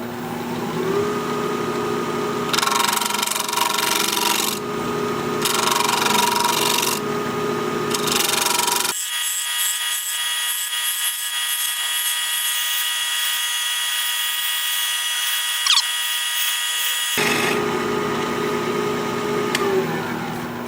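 A piece of sea grape wood spins on a wood lathe while a cutting tool rides against it, giving a loud, steady whine broken by abrupt shifts in tone and brief pauses as the cut changes.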